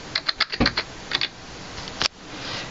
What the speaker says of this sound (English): you type in your password and your Apple ID